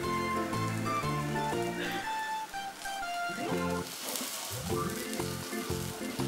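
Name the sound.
egg in bread frying in butter on slow flame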